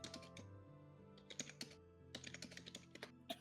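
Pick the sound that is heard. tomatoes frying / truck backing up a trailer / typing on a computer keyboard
typing on a computer keyboard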